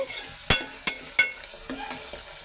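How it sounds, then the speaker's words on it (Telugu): A large onion and three green chilies with curry leaves fry in a pan, a soft steady sizzle broken by three sharp clinks of a spoon stirring against the metal, with no talking. "ఉల్లిపాయ పచ్చిమిరకాయలు వేసుకున్నాను"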